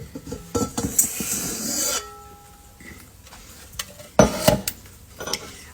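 All-purpose flour poured and scraped into a KitchenAid stand mixer bowl, with scraping, rubbing and clinking of a scoop or measuring cup against the bowl in uneven bursts, close and fairly loud, with no talk.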